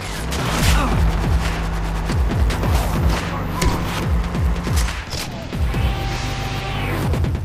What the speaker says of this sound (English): What beast of an explosion.